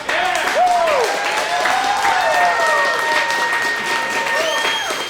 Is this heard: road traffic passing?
no